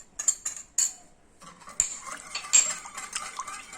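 Whisk or spoon clinking against a bowl while mixing basbousa batter of milk, a pinch of salt and other ingredients, a few sharp metallic taps and scraping strokes, close and fairly quiet, no talking.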